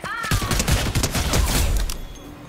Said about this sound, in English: A lot of shots right now.